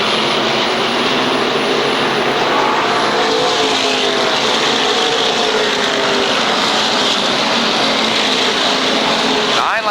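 SK modified race cars at Waterford Speedbowl during a 30-lap feature in 1992, a dense, loud, continuous engine roar from a pack of cars circling the track, with a commentator's voice mixed in underneath.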